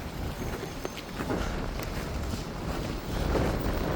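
Wind gusts across a microphone outdoors at a bus stop in Canada, a loud continuous rumbling buffet that swells and eases, with no clear voices over it.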